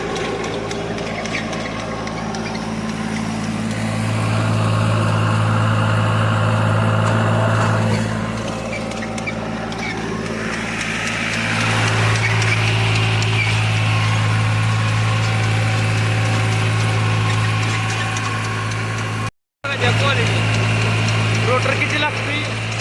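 A tractor engine idles with a rotavator attached, giving a steady, close mechanical drone with a low hum that swells and eases a few times and cuts out briefly near the end. Faint voices may sit under it.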